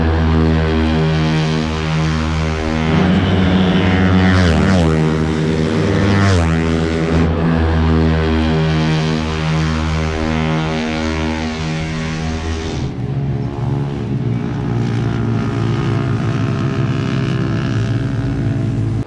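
Yamaha R15 racing motorcycles scream past during an endurance race, a loud, sustained high-revving engine whine whose pitch swoops up and down as bikes pass and shift, with a constant roar throughout.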